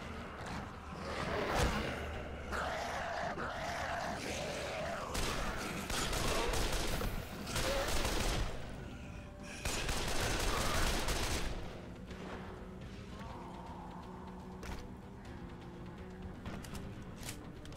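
Auto rifle fire in the zombie game Dead Island, sustained bursts of shots in several long stretches at moderate volume, quieter passages between them.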